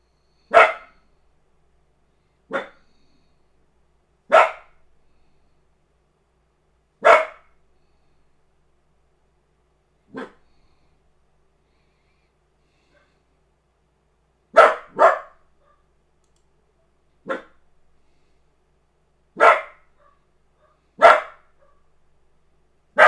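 A dog barks in single sharp, loud bursts, about ten barks spaced irregularly a second or more apart, with quiet gaps between and no talk.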